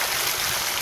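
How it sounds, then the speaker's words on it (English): Water rushes steadily through a swimming pool filter being backwashed, a brief, continuous broadband gush with no voices. "that's what we're doing right now, is we're backwashing it"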